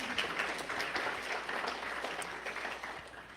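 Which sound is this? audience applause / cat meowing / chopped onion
audience applause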